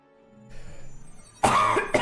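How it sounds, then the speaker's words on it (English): A single sharp cough following a quiet stretch of low background noise, then a smaller second burst, close and loud. "Why is it every time I stream, you know, I end up having some kind of cough"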